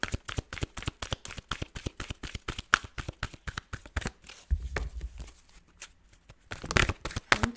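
A tarot deck is shuffled by hand in quick, crisp riffles, the cards slapping and fluttering in a steady rhythm. A short pause falls midway, then a few final card flips and taps follow, with no talking.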